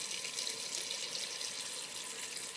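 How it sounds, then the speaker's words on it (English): Cold tap water running steadily into a sink over boiled potatoes, a constant soft hiss and splash at low volume without pause. "I'm just cooling these in the sink with some cold water to help expedite the process"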